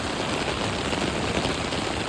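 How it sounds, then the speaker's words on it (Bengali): A heavy morning downpour in Dhaka hammers down around the listener, a constant close wash of raindrops drumming on surfaces with a faint low rumble beneath, no speech. "দেখছেন কী পরিমাণ বৃষ্টি হইতেছে,"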